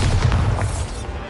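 Bombarda spell going off in a Hogwarts video game: a loud, close, sustained rumbling blast with booming low thuds and crackle, tapering off over about a second.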